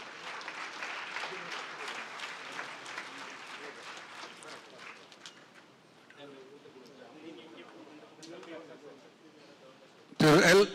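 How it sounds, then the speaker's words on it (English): Audience applause fills a hall at an awards ceremony, steady and dense for several seconds, thinning out with murmurs before a sudden loud burst near the end. "A huge applause, please."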